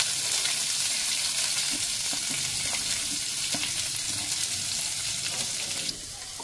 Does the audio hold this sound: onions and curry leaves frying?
yes